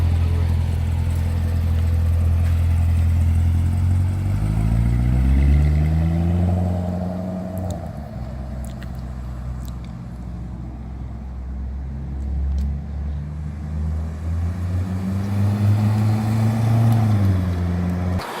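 A Corvette Z06 engine rumbles steadily as the car approaches, its pitch rising and falling with acceleration, fairly close and continuous.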